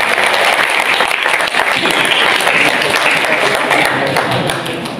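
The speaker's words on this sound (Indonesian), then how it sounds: "Tepuk tangan dulu dong." Loud, close applause from a crowd at an Indonesian school prize-giving ceremony, a dense, even burst of clapping sustained for about five seconds with no talk over it.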